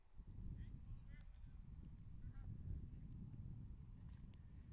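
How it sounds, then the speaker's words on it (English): A flock of geese honks as it flies over an outdoor 18U baseball game in Waltham. Several scattered, moderately distant honks ring out over a steady low outdoor rumble. "We get a flyover from a flock of geese."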